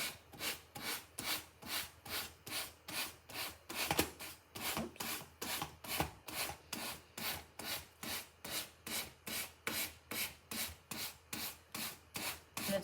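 Sandpaper rubs back and forth across wood in quick, even strokes, about two per second, a close rasping rhythm that runs on alone.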